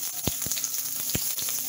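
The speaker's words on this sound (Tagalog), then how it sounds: "Tumatasok lagi yung mantika sa akin." Hot oil crackles and sizzles in a pan as onions caramelize for a beef steak lunch, with a few sharp spattering pops over a steady frying hiss.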